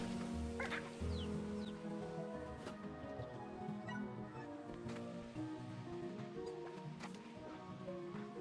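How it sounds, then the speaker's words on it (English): Sea hens from the video game Slime Rancher 2 cluck and murmur softly against a quiet ambient game background, with scattered faint chirps and no voices. "I can get some sea hens,"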